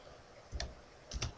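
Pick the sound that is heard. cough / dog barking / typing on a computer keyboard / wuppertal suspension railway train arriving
typing on a computer keyboard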